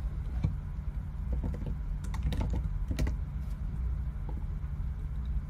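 A password is typed on a computer keyboard as a quick, irregular run of soft key clicks over a low background hum, heard alone without talk.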